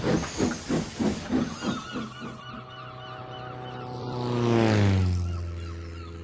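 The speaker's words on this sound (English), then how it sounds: "And he puffed away in a cloud of steam." A steam engine puffs in quick rhythmic chuffs, then lets out a long hissing blast of steam as a low whistle-like tone swells.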